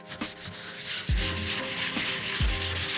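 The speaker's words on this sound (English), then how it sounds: "even just a variable speed polisher works super good as well, because that higher RPM really helps burnish in that oil" A variable speed polisher buffs oil into a wooden surface, giving a continuous whirring rub with a few sharp dips and rises in pitch as the pad shifts pressure, close and without talk.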